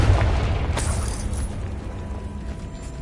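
Confringo blast spell exploding in Hogwarts Legacy, a deep booming burst right at the start that rumbles and decays slowly over the following seconds.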